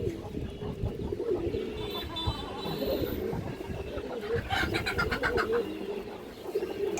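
Several pigeons of fancy breeds such as Kaldom coo softly and repeatedly at close range, a low burbling drone running steadily throughout.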